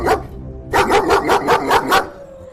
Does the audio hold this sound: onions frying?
no